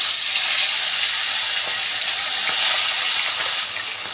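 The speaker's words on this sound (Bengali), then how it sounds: "তেলটা গরম হয়ে গেছে, এবার মাছটা ছেড়ে দেবো।" Fish sizzles in hot oil in a wok, a loud, steady bright hiss of frying that continues without pause, with no talking.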